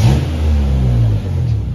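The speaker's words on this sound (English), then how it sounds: "this is what the stock exhaust sounds like" Stock exhaust on a 2000 Honda Civic Si revving, with a slight exhaust leak: a loud, steady low engine drone held for under two seconds, easing briefly near the end, with no talk.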